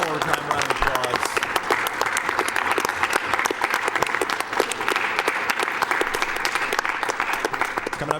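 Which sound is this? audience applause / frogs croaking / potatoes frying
audience applause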